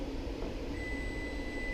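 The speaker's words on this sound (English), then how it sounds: "Okay, that would be my timer." A kitchen timer beeps in a steady, continuous electronic tone that starts partway through, set while cooking live lobster mac and cheese, over a constant background hum of the kitchen.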